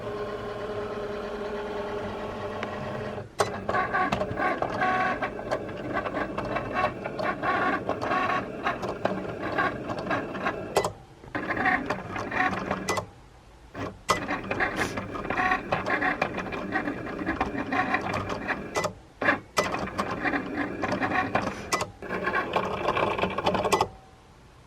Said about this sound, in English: you just push the Cricut button that's flashing, and it is going to get to work here